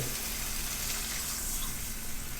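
A cup of water is poured into a cooking pan holding a simmering sauce with oyster sauce, giving a steady hissing splash that runs unbroken for a couple of seconds.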